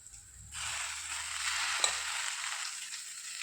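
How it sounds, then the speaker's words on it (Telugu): Punarnava leaves tipped into hot oil in a pan send up a sudden loud sizzle that holds steady, with a brief scrape of stirring in the middle and no talking. "ఇప్పుడు మనము రెడీ చేసి పెట్టుకున్నటువంటి గలిజేరు ఆకును వేసుకోవాలి"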